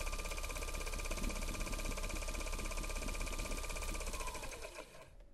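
Electric spinning wheel motor running at its maximum speed of about 1,000 RPM, a steady close mechanical whir and hum that winds down near the end, heard alone.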